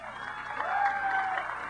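An audience at a fire-eater show during a horror-themed theme park event claps steadily throughout, a moderate, even patter of many hands with a faint crowd murmur underneath.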